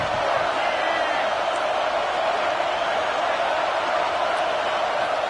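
Stadium crowd roar in a college football video game, CFP 26, a broad, steady wash of thousands of voices held at constant loudness with faint scattered shouts, heard from a distance and never dropping.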